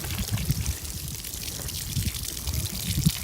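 Water runs steadily from a kinked garden hose into a dip tank, a soft continuous trickle and splash heard close and fairly quiet, with no talking.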